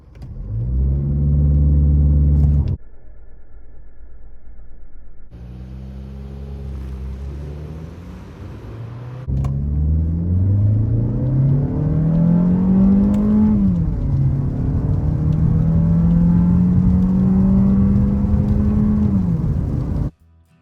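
A 2026 Mazda 3 with a 2.0-litre Skyactiv engine revs loudly, then surges forward from standstill with engine pitch climbing steadily through the gears, a strong close rumbling acceleration with no one talking.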